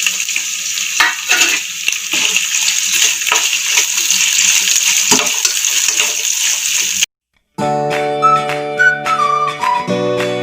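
Onion, dry red chili and curry leaves frying in hot oil with peanuts in a pan give a steady, dense sizzle for about seven seconds, then the sound cuts out and music follows.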